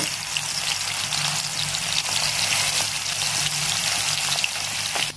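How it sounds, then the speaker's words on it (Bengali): Shrimp frying in hot oil in a wok, a steady dense sizzle with faint crackles throughout, close and loud with no talking. "দেখুন চিংড়ি মাছটা ভালো করে ভেজে নিচ্ছি"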